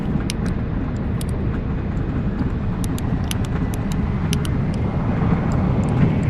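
A simulated jet airliner landing at Longyearbyen in X-Plane 11 roars continuously with reverse thrust deployed, a dense, loud, unbroken rumble.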